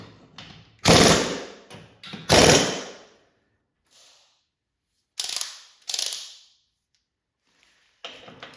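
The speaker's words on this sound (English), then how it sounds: "I will thread on my lug nuts, and those are going to be tightened to" A ratchet tightens lug nuts on the drive axle of a 2003 Arctic Cat 500 ATV. Loud, close clicking strokes come in separate bursts, with a few lighter taps and quiet pauses between them.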